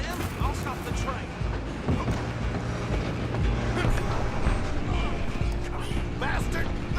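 A steam train in the video game Red Dead Redemption 2 runs in a dense continuous rumble with clanking, creaking metal and rattling wheels, loud and close throughout, with a voice shouting over it.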